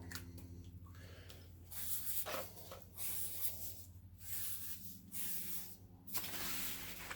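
Pen scratching across a paper dash panel template, faint and close, in short irregular strokes separated by brief pauses, with a dry hissing texture.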